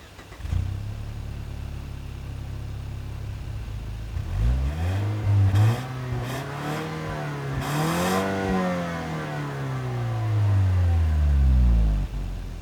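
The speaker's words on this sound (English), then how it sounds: "the engine, it's just a 2-liter 4-cylinder, so I'll let you guys hear what that sounds like" A 2019 Lexus RC 300 F-Sport's 2-liter four-cylinder engine idles low, then revs up several times with rising and falling pitch, loud and close, without any talking.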